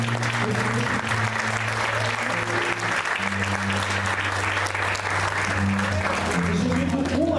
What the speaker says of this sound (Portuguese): Então aplauda o nome do Senhor Jesus.